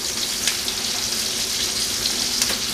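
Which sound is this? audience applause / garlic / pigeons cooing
garlic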